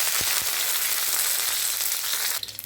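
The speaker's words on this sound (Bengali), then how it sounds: "এখানে দিয়ে দিচ্ছি কাঁচা লঙ্কাটা।" Green chillies fry in hot oil with bay leaf and other whole spices, a loud, steady hiss and crackle that fills the whole stretch and drops off abruptly at the end.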